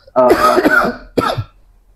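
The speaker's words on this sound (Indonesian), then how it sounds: "ganggu batuk lo ya?" Two quick coughs close by, a longer rough one followed by a short second cough, then quiet.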